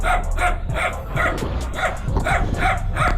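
Several dogs, tied up in a fenced compound, bark repeatedly in a quick, uneven rhythm, loud and fairly close, with yips mixed in over a noisy background.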